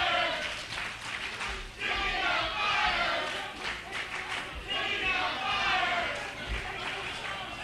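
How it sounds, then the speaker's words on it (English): A crowd at an NWA Wildside Last Rites pro wrestling match chants and roars in swelling waves, with a commentator talking over the noise. "Crowd's commenting on the employment status of Jimmy Rave and some other organization."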